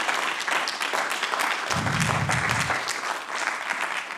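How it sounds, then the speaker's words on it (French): Sustained applause from a roundtable audience at a university event day in Lille, a full, even roar of many hands clapping throughout, with a brief low rumble partway through. "Je voudrais qu'on applaudisse très sincèrement."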